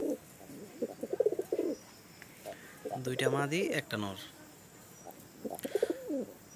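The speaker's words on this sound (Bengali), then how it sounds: "দেখতে পাচ্ছেন মাশাল্লাহ কবুতর।" Teddy high flyer pigeons coo softly in short bursts at close range, interleaved with someone speaking in a quiet setting.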